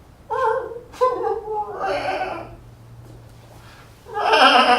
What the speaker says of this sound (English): So you're the sheep named Alice